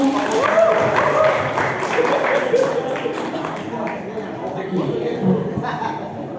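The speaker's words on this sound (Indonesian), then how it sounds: "Tepuk tangannya dong." Audience clapping and light laughter at an Indonesian youth talk show, a moderate round of applause mixed with chuckles and voices, fairly close and loud.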